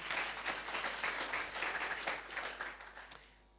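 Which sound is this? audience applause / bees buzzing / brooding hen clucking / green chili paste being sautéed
audience applause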